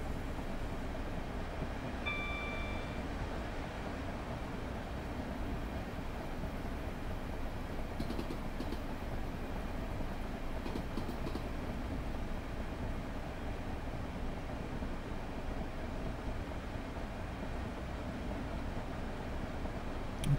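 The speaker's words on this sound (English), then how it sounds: "Train coming the other way." A train passing on the Chatham Main Line in Train Simulator 2019, a steady low rumble and rattle that holds evenly for twenty seconds, with a brief high tone early on and no talking.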